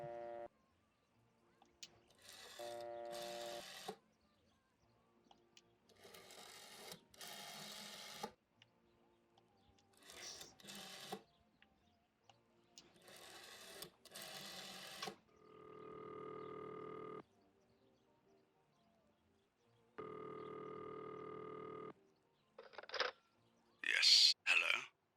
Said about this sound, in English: Dial some of the numbers that we did not dial yet.